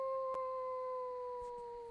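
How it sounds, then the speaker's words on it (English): Hyaenodons howling in unison in the video game Ark, a sustained, layered howl that holds steady and slowly sinks in pitch, fairly quiet and alone. "Doesn't it make it sound like there are 60 hyena dons just howling at the same time when they go,"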